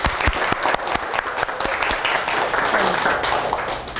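A seminar crowd at a children's camp teaching workshop gives a sustained round of applause, many hands clapping together up close, with faint talk underneath.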